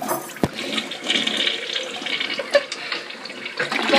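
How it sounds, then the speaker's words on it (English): A household toilet flushes after peppermint candy and Twizzlers are dropped into the bowl, giving a sharp lever clunk followed by a loud rushing, swirling gush of water that continues steadily, with no voices over it. "And let's flush."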